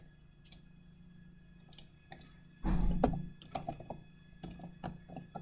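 Quick bursts of computer keyboard typing while renaming an Excel sheet, close and crisp key clicks clustered in short runs with brief pauses, louder in the middle stretch.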